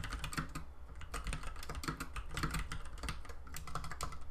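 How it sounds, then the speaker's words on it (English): Fingers type rapidly on a mechanical keyboard, a dense, steady clatter of quiet clicking keystrokes close by, with no talking. "I do apologize if the key clocks get annoying. I have a mechanical keyboard and a nice-ish mouse"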